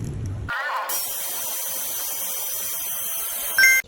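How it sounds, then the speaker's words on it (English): A drill whirs steadily for about three seconds while removing rust in hard-to-reach areas, a fairly loud and even buzz with no talking, starting abruptly and ending with a brief louder burst. "Tip for using a drill to remove rust in hard-to-reach areas."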